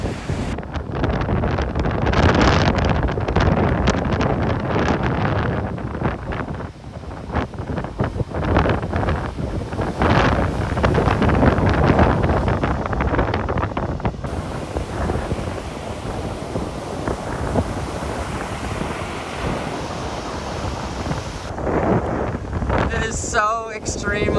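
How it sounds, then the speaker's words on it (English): Strong wind in Hawaii roars and buffets the microphone in heavy, continuous gusts, rumbling loudly throughout with brief lulls near the end. "So extremely windy."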